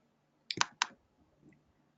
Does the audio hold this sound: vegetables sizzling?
no